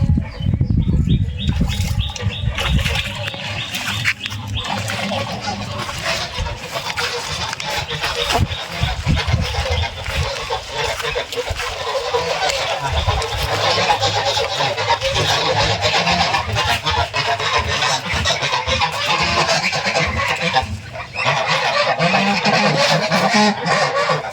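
Loud, close honking and quacking from a group of Muscovy ducks on a duck farm, being fed water hyacinth, with bursts of wing flapping, continuous throughout with a few faint voices in the background.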